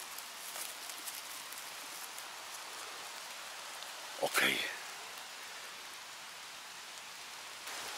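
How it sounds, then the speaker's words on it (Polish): Steady rain falls on a forest during mushroom picking, a constant close hiss of drops on leaves, with a brief rustle or footstep burst midway and a single short spoken word. "bo nie da się chodzić w taką pogodę. Nie da, zobaczcie, jak pada."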